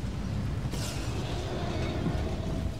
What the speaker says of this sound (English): Wow, that was quite the explosion!